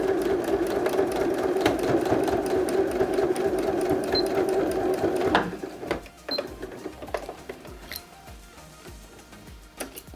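A sewing machine stitching a milk carton into an Easter basket hums in a fast, steady run, then stops and gives way to scattered clicks and handling taps.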